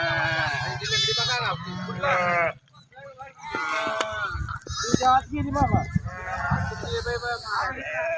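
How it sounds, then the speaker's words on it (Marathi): A flock of sheep bleats loudly and continuously in overlapping calls as it heads out to graze in the fields, with people's voices mixed in among the animals. "मेंढी माऊली शेतात चरायला निघाली"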